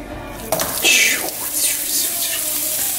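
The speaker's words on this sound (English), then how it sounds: "Alright, so we got some oil cooking." Oil sizzles and crackles in a preheated cooking pan, a steady hissing wash with brief louder spits, close and loud with no talking.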